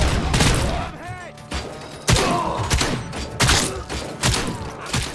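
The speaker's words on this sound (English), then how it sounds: "the OCP shotgun is pretty good" Repeated OCP shotgun blasts in RoboCop: Rogue City, several heavy booming shots spaced irregularly with mechanical clacks and game effects between them.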